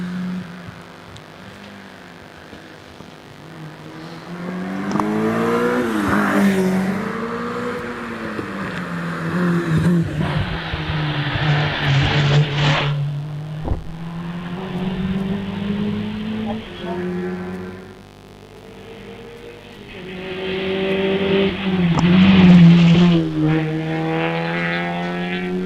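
Road-class cars racing up the Doune hillclimb course in Scotland during a British Championship event, engines revving and shifting pitch as they pass, with a commentator talking over the continuous engine noise.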